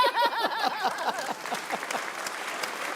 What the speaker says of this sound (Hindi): सबसे पहले तालियां बजाएंगे